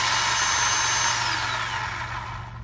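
A Bauer 20V cordless chainsaw cuts through wood with a high, buzzing motor whine close by, then the pitch drops and the sound tapers off toward the end.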